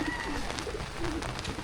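Racing pigeons coo softly in a loft, with a few low, brief calls over faint background noise, fairly close and without talking.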